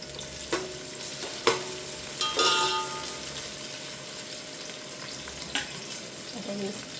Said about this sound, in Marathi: आता मी ते कांदे टाकून घेतलेले आहेत